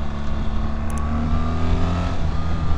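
A 2025 BMW R 1300 GS Adventure motorcycle engine pulls hard under acceleration, a loud, close, sustained drone that rises steadily in pitch for a few seconds, with no talking.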